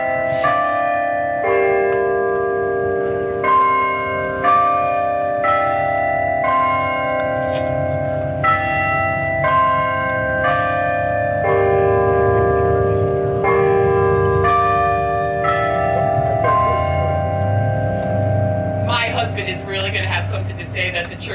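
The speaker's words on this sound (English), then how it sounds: "That the church bells tolled when I started talking about it." Church bells toll at a Patriot Day memorial in Bonita, ringing repeated clear, sustained strikes in a steady pattern, loud and resonant, with a brief burst of other noise near the end.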